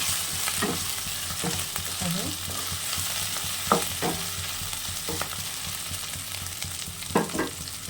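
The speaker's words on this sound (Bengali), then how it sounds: "পেঁয়াজটা ভাজা হয়ে গেছে এবার আদা বাটা দিয়ে দিলাম" Fried onion with ginger paste sizzling in a pan for a taro-leaf dish, a soft steady hiss broken by several sharp spoon scrapes and stirring knocks.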